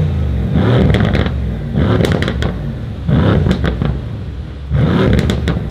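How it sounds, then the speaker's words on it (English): A 2017 Mercedes-Benz C63S AMG with its twin-turbo V8 and deleted muffler revs hard in four loud, close bursts, each dropping back to a rough, burbling idle in between. "I'm going to rev it."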